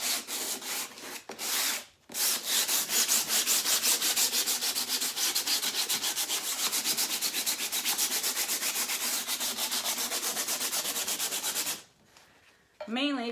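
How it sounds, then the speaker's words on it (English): Hand sanding of a wooden farmhouse laundry sign, a fast steady rhythm of close, loud rasping strokes after a few brief starts, stopping near the end before a short voice. "couple reasons that I'm sanding it."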